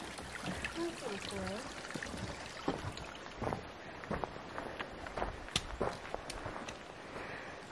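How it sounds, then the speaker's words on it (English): A small creek flows gently beside a hiking trail on the Tahoe Rim Trail, a soft, steady wash of water heard faintly while hikers talk nearby. "Creek. Yeah. A little flow."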